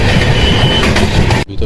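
Purva Express superfast train rushing past on a parallel line, a loud continuous rumble and rattle of wagons close by that cuts off abruptly near the end.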